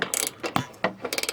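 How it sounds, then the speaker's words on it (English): A ratchet wrench cranks down a bolt on a bull bar frame of a 2000–2006 Yukon, Suburban or Tahoe, giving quick clusters of metallic clicks in short bursts. "got the wrench up in the frame there to hold the top of this bolt we're cranking down"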